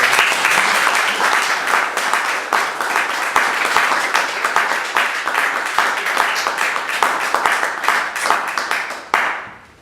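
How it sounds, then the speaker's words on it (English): A room full of people at a community speaker event gives a round of applause, loud sustained clapping with crisp hand strikes that holds steady before cutting off near the end. "let's have a round of applause"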